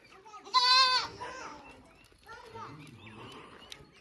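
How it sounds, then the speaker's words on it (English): Goats in a village in Rajasthan give a loud, close bleat, then softer animal calls follow under a person talking. "there are some goats coming my way."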